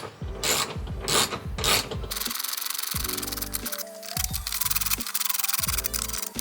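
Ratchet wrench tightening the mount of a Fresiar 12V AC unit in a Sprinter van, a rapid run of clicking pawl strokes followed by steady rhythmic ratcheting with brief pauses between pulls, close and clear.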